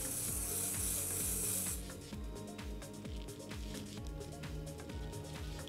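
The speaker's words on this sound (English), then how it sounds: "So I will just spray it under the spring of the curls" A bright hiss of hairspray sprayed under hair curls lasts for a couple of seconds, then stops, while background music plays throughout.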